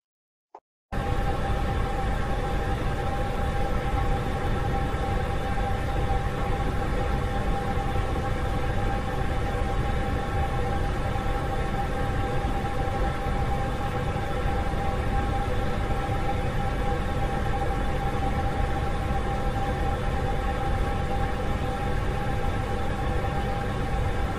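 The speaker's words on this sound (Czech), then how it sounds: "A teď se podíváme na další zvuk, tentokrát hydronický zvuk, a to je šumění a hučení." Hydronic noise in a heating system: a constant broadband rushing and humming that starts abruptly after a brief click, then holds steady and loud like sea surf, with no talking.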